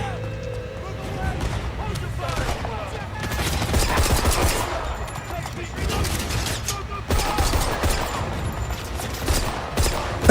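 Gunfire from the video game 007 First Light: bursts of rapid shots and crackling impacts fill the clip, mixed with game effects, while a person talks over the action throughout.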